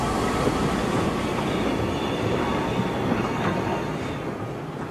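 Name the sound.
steam locomotive shunting in Yugoslav railway yard, 1962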